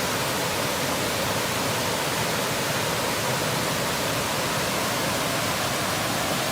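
A Vermont waterfall pours in a dense, steady rush of broadband noise, close and loud, holding constant with no voices or other sounds.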